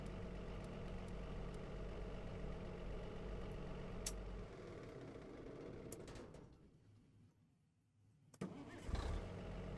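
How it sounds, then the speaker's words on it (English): A farm vehicle's engine in Farming Simulator 25 idles with a steady rumble, then dies away to near silence before cranking and firing back up with a louder burst at the end. "if you start the engine"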